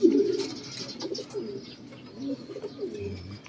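Racing pigeons cooing soft and low, with murmured coos repeating through the moment, at a pigeon race lap in Aringay, La Union.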